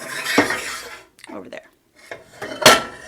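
A saucepan being slid aside on a stove while making mini meat pies, giving a few clanking metal scrapes and clinks, close and fairly loud, with brief speech in between.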